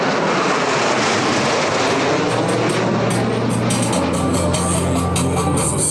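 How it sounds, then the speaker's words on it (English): US Navy Blue Angels jets 5 and 6 approach the flight line at high speed during a homecoming airshow, a loud continuous jet roar that swells and rises in pitch over several seconds, with no talk. "Blue Angels 5 and 6 are approaching the flight line at 400 miles per hour."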